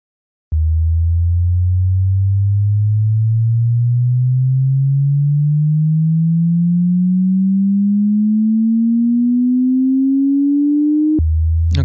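A synth riser tone sweeps steadily upward two octaves over about eleven seconds, its pitch driven by automated MIDI parameter control. The tone is loud and pure, with a faint pulsing throughout, and it stops abruptly at the top.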